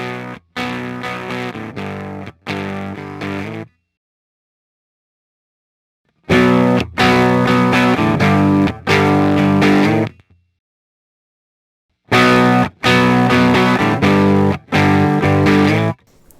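A guitar through an EHX Germanium 4 Big Muff Pi set to maximum plays three thick, fuzzy distorted phrases of strummed chords, separated by clear silent gaps.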